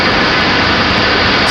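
A loud, close, steady broadband roar from a jet engine as an arriving airliner passes at Raleigh-Durham International Airport. It is continuous and unbroken through the short stretch, with no voices.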